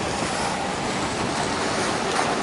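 Venice water taxi moving along a canal, with a steady broadband rush of water and wind noise that is loud and continuous throughout.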